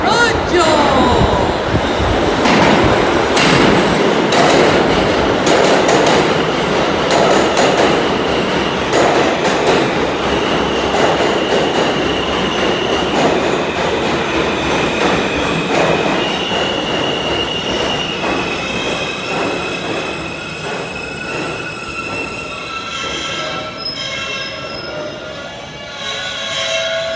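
An F/M local subway train pulls into the 23rd Street station in New York, a loud rolling rumble with squealing wheels and clatter that slowly fades as it brakes, with a voice briefly heard.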